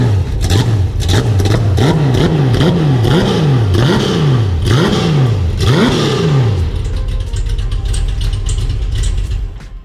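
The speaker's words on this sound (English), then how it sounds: "that opens up the exhaust valve on the exhaust, and it's much louder, much vibrant sound in the exhaust system." Guntherwerks 400R engine blipped repeatedly with the exhaust valve open, a loud close series of about a dozen sharp revs rising and falling, gradually slowing and larger before settling toward idle.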